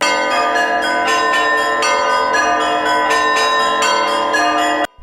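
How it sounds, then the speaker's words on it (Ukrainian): Church bells peal continuously at a Feast of the Saviour celebration in Chernihiv, a loud, layered ringing, strikes overlapping with a steady rhythm until they cut off abruptly at the end. "Під урочистий передзвін спаських дзвонів"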